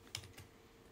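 Two or three soft clicks on a computer keyboard while typing a name into a document, faint and brief over low room hum.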